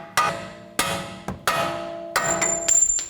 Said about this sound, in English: Now carefully hammer out these bolts.